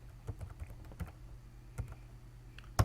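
Typing on a computer keyboard, a quiet sparse run of light key clicks over a low steady hum, ending in one louder tap, with no talk.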